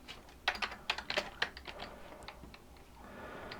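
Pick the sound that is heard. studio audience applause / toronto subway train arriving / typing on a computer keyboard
typing on a computer keyboard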